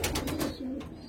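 Racing pigeons cooing just after returning home from a 20-mile flight, a few close, soft, throaty coos in quick succession.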